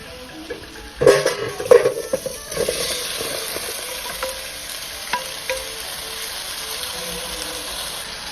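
Vegetables, including Chinese kale, bok choy and cabbage, are stir-fried in a pot for a Thai chap chai soup, giving a close, busy sizzle with clattering stirs near the start that settle into a steady frying hiss.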